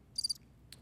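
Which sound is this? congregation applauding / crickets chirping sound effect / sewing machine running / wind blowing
crickets chirping sound effect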